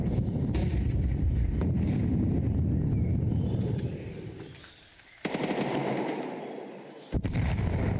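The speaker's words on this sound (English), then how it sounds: "Throwing a flashbang!" Counter-Strike 2 gameplay with dense rapid gunfire and bursts over a windy rush, then a quieter moment before a sharp hit and more loud firing, as a flashbang is thrown amid the fight.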